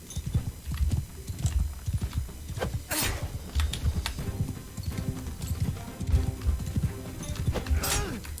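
Galloping horse hooves in a medieval battle game, rapid clip-clopping close by with a steady driving rhythm, mixed with clanks and scattered battle noises.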